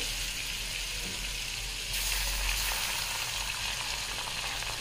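Ginger garlic paste sizzles in butter and oil in a pan for dal makhani, a loud, steady hiss of frying that swells a little partway through, with no voices.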